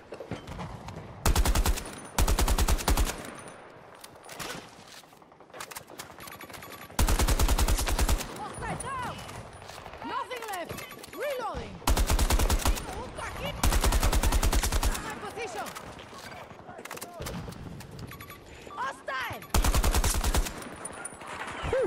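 Automatic rifle fire in Battlefield 2042, including an AK-5C: repeated loud bursts of machine-gun fire lasting a second or two each, separated by quieter stretches of ambient battle noise and someone talking.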